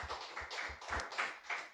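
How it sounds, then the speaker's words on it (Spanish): A church congregation claps for the Lord in quick, rhythmic, faint handclaps with soft low thuds keeping a steady beat. "Dele fuerte aplauso al Señor"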